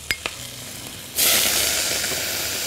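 Minced garlic drops into hot ghee in a pan after a couple of light clinks, and a loud, bright sizzle bursts up and holds steady, close and alone.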